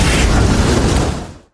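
A loud explosion bursts inside a narrow tunnel in a film scene set in the Vietnam jungle, a dense, rumbling blast that holds steady for over a second before dying away quickly.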